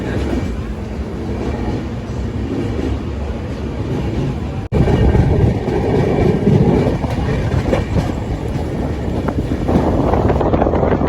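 Loud, continuous rumble of a moving passenger train heard from the carriage doorway, with rattling carriages and wind buffeting, one brief jolt midway, no voices.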